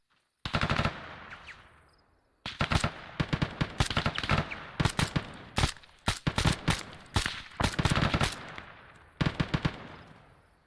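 Gunfire in the military video game Arma: loud close bursts of rapid automatic shots in several volleys separated by brief pauses, sharp and cracking, with no talk.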